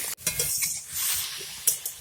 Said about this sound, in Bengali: লঙ্কা এবং রসুনটাও যেই ভাজা ভাজা হয়ে যাবে হালকা